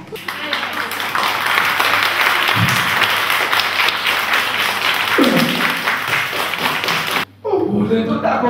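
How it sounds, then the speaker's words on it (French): A concert crowd in Belgium applauds continuously, dense clapping with scattered thumps and a voice briefly cutting through, broken by a short dip near the end before the clapping resumes. "je vous demande de m'applaudir"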